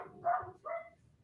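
A dog barks twice in a room, short muffled yips that sit faintly behind quiet background noise, with a third bark starting at the end.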